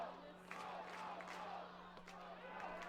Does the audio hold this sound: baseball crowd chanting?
yes